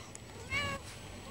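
A single short cat meow rising and falling over faint background noise, from a cat on top of a car.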